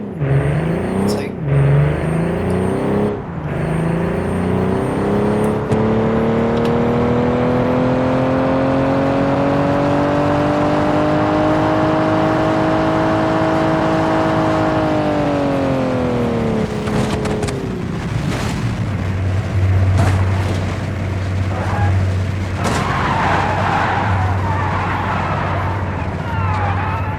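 A 1946 Vortex KT car in the video game Automation revs up with a rising engine whine, holds a long high drone, then drops off as it brakes to a lower rumble, with a voice talking over it.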